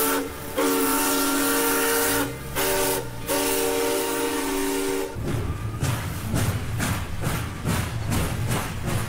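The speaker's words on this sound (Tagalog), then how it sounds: "Palyado yata yung tunog ng tren na Edniel" Bicol Express train sounds a loud, steady horn in two blasts over rumbling wheels, then a rhythmic clatter of railcars passing close by.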